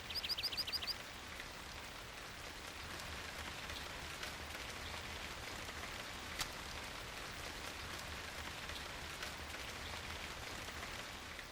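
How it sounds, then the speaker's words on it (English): Rain in the PGA European Tour golf video game: a steady, soft patter of rainfall on surfaces, continuous and even, with a few quick bird chirps at the very start. "I do like the rain sound effects, I will admit"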